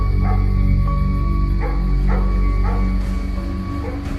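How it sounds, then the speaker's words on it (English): Dogs bark and yip repeatedly in a quick, uneven rhythm, fairly close and loud, with a faint whimper among the barks. "there was noises heard in the grounds, dogs barking."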